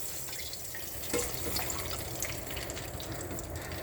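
Bacon grease dumped from a pan into a kitchen sink, a steady wet pouring and splashing with a few sharper drips, close and continuous.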